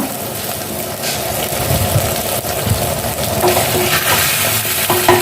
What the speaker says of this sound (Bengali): এরপর দিয়ে দিচ্ছি কারি পাতা।